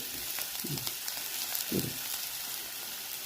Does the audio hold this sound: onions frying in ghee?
yes